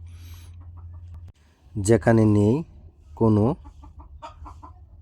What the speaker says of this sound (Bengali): আছে শুধু পশু পাখিদের ডাক